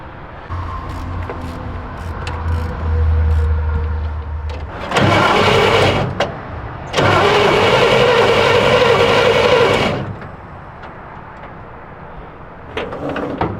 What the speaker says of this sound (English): Motor's not seized up, everything's spinning over, everything's good.